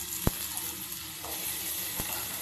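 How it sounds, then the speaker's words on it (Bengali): Potatoes frying in hot oil with cumin give a steady, moderate sizzle, broken by a couple of sharp utensil clicks against the pan. "এবার এর মধ্যে দিয়ে দেবো আলুগুলো, মোচার আলুগুলো যে কেটে রেখেছিলাম এর মধ্যে দিয়ে দেবো ভাজা ভাজা হওয়ার জন্য।"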